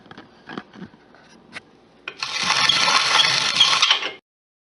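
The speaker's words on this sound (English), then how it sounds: "So I ground a little bit more, I don't know, 15 or 20 turns on the grinder" A hand-cranked grain grinder milling grain into bread flour gives a steady, loud, gritty rasping grind for about two seconds after a few scattered knocks and rattles, then stops abruptly.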